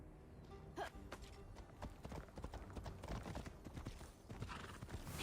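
Horse hooves clip-clopping in the Immortals Fenyx Rising video game, a brisk rhythmic gallop of many sharp hoof strikes with a whinny near the start, close and prominent.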